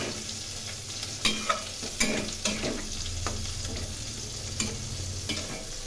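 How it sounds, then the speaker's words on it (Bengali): Fish curry with bay leaf, sugar and red chilli powder sautéing in a pan, with a constant low sizzle under repeated scraping stirs and occasional sharp clicks of the spoon, close and steady. "এখন ভালো করে কষিয়ে নিচ্ছি।"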